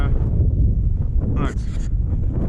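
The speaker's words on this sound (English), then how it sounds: "it's a bit windy" Wind gusts rumble steadily across the microphone, with low buffeting noise throughout and a brief faint higher rustle midway.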